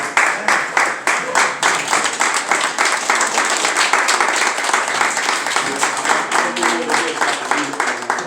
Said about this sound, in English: Let's receive him with a hand clap.